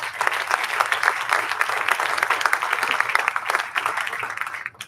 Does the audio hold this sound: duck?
no